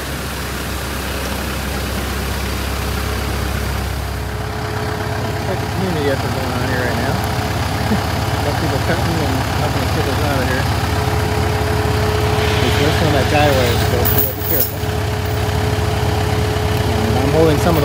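A tractor engine idles steadily and close throughout, a continuous low hum while working on a hillside clearing branches, with a brief dip in the noise near the end.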